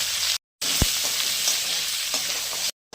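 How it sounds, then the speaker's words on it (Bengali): A dry red chili fries in leftover fish-frying oil, a steady close sizzle with a brief sharp pop, broken twice by short silences. "মাছ ভাজার তেলে একটা শুকনো লঙ্কা দিলাম, এগুলো একটু ভেজে নেবো লাল করে"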